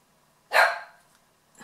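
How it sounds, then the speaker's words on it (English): A pet dog barking indoors, one sharp loud bark close by, followed by quiet and the start of another. "I don't know why my dog is barking"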